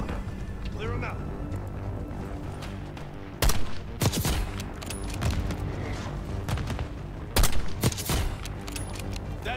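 Mortar and gunfire in the video game Call of Duty: Black Ops 6: two heavy impacts burst out amid rattling gunfire over a constant battle rumble, with voices talking over the action.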